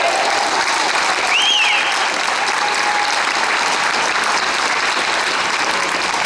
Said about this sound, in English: Let's get a big round of applause for that